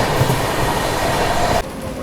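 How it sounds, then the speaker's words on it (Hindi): A passenger train rumbling steadily along the rails while another train overtakes the Kushinagar Express; a loud, continuous rolling roar that drops off abruptly near the end, no talk. "ट्रेन ओवरटेक कर रही है अपनी कुशीनगर एक्सप्रेस को"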